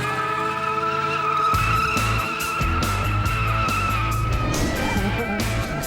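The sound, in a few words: car skidding while doing two-wheel tricks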